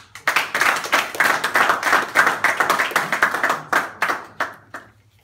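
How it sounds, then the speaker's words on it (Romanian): An audience at a speech-evaluation club meeting claps in a loose, uneven burst of distinct hand claps, fairly close and moderately loud, thinning out toward the end with no talking. "mulțumim cu aplauze pe primul evaluator de discurs"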